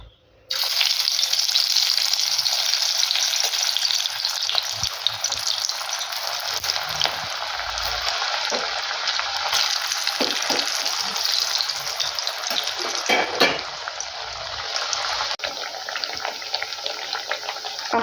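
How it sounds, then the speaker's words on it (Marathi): Alu vadi, colocasia-leaf rolls, deep frying in hot oil on medium flame, a steady loud sizzling hiss that starts abruptly and continues unbroken, with no voices. "आता आपण वड्या फ्राय करून घेऊयात."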